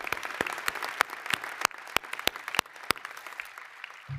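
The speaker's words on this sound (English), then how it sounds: "Let's give another big round of applause for our singers" Sparse, scattered clapping from a small number of people at a university new student convocation after a national anthem performance, individual sharp claps spaced irregularly and fading out toward the end.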